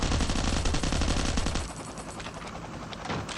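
Rapid automatic gunfire from a gun in the survival video game Last Island of Survival, a dense loud burst of shots for about a second and a half, then trailing off into scattered softer reports and echoes.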